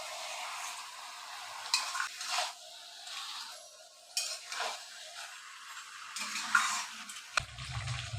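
Marinated chicken stirred and sautéed in a pan over a full gas flame, with a steady sizzle and intermittent scraping stirs and utensil clinks, close up and with no talk.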